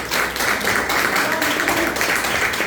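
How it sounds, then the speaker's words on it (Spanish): A church congregation gives sustained applause, a dense, steady wash of many hands clapping together at close range for the full stretch. "Denle un fuerte aplauso al Señor"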